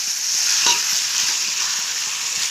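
Food stirred as it fries in oil in a pan, in a home kitchen where meat is being cooked for guests: a steady close sizzle with soft scraping strokes of the spoon, and no voices.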